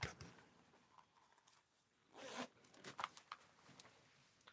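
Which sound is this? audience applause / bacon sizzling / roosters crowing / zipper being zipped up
zipper being zipped up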